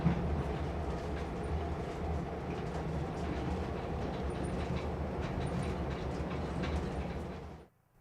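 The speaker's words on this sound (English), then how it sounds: "The train to Alexandria traveled through an apocalyptic landscape" A train to Alexandria, Egypt, rumbling along the rails with steady clattering and a low roar, cutting off abruptly at the end.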